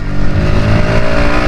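Bajaj Pulsar NS 125 motorcycle engine under throttle, a loud, steady, close-up drone that holds its pitch without climbing, from a bike said to lack pulling power.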